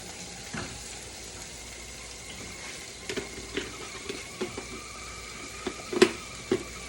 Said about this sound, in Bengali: অল্প একটু ওটমিল এটার সাথে আমি একটু ভেজে নেব